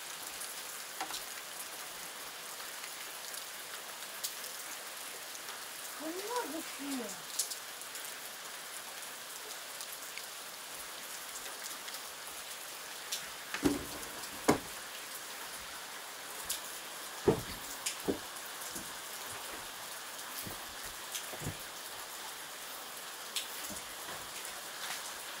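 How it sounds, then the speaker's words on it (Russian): Rain falls steadily on the surfaces around a campfire where potatoes and salo are roasting over coals, a soft even patter with a few sharper drops and knocks standing out here and there. "В общем, идет дождь."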